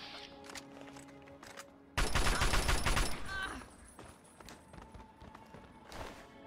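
Gunfire rings out in Fallout 3 as a rapid burst of loud shots, with a few scattered isolated shots and in-game clatter before and after.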